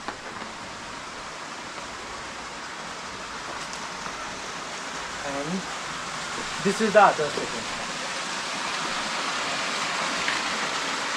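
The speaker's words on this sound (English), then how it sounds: "you can hear the waterfall most of the times" Steady broadband rushing of a waterfall in the Halaan Valley near Manali fills the scene throughout, with a person speaking briefly over it midway.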